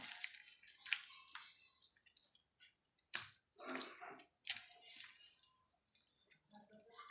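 Butter being washed by hand in about half a litre of water for ghee, with wet squishing, sloshing and dripping sounds in irregular bursts separated by brief near-silent gaps, close up.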